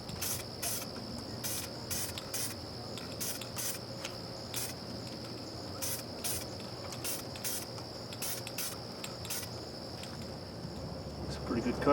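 Eastwood spray paint hissing from an aerosol can onto car parts during an LS engine swap, in a series of short bursts with brief pauses, close and steady over a low background hum.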